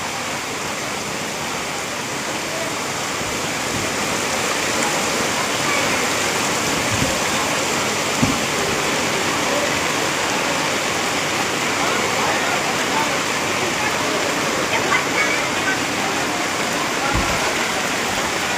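Floodwater rushes steadily through a main market street in Bhabhar after rain, a continuous broadband roar, loud and close, with faint voices beneath.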